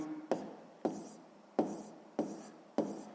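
Pen or pencil scratching numbers onto paper by hand during a sixth-grade maths exercise, five short strokes in a steady rhythm, close and quiet with no talking.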